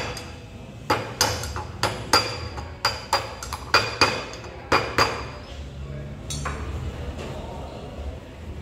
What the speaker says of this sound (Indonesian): Kita coba pukul dengan palu karet ya.